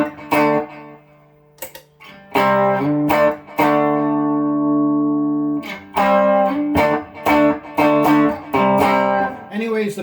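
Electric guitar played through a Big Muff fuzz pedal, with thick, bass-heavy sustained chords and notes ringing out between short pauses, loud and close.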